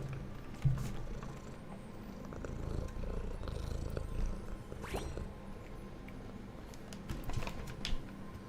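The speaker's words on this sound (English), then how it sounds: "He's a chainsaw purr when it comes to treats." A cat purrs steadily close to the microphone as a low, rumbling, continuous drone, joined by a few soft clicks and rustles.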